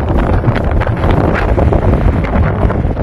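Strong wind gusts across a hilltop and buffets the microphone with a steady, loud roar that continues without a break.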